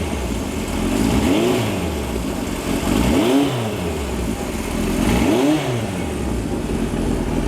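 Engine of a 1976 car revved three times in a steady rhythm, each rise and fall distinct and loud, over a constant idle rumble close by.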